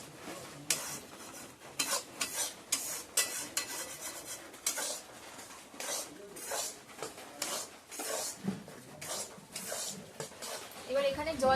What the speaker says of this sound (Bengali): ময়দা আর সুজিটা ভালো করে নাড়িয়ে নেবো।